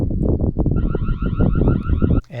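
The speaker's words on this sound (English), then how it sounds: "It also has an alarm feature and is pretty loud." A Reolink TrackFlex Floodlight camera sounds its alarm siren, a loud, warbling electronic wail heard from about 120 feet away. It comes in after a short stretch of rumbling background noise and holds steady for roughly a second and a half.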